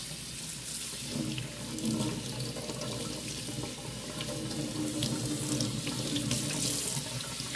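Running tap water pours steadily over broccoli being washed in a kitchen sink, a continuous close splashing hiss with no voices.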